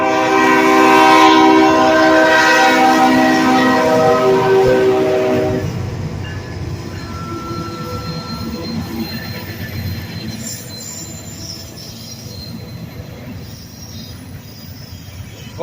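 A freight train of 8,800 horsepower hauling 32 loads of plate steel sounds a loud, sustained multi-tone horn up close for several seconds, then rolls past with a steady, broadband rumble and clatter of wheels.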